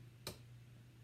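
A single sharp fingernail tap on the upper bout of a string instrument, close and faint, with a steady low hum underneath.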